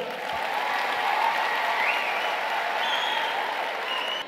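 Audience applause at a National Rally of Independents political rally, a steady, fairly distant wash of many people clapping that holds evenly for several seconds, with faint crowd noise and occasional whistles above it.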